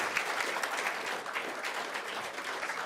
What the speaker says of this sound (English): Let's give him a round of applause, the leader of men.